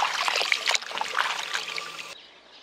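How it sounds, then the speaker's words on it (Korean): Radishes are rinsed by hand under running tap water, a close, splashy trickle with dripping and rustling that fades out quickly at the end. "이렇게 한 2번 정도 흐르는 물에 씻어주면 돼요"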